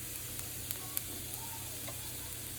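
Chanterelle mushrooms frying in butter and garlic in a pan, a steady, dense sizzle with faint pops and crackles scattered through, constant and close with no talking.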